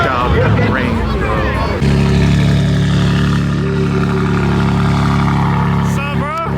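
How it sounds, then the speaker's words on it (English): A car with a catless full exhaust revs at a car meet, the engine note droning loud and steady with a harmonic rumble, while voices chatter over it. "Catless full exhaust. That shit sounds crazy."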